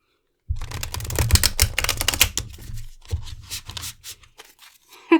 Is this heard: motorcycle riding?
no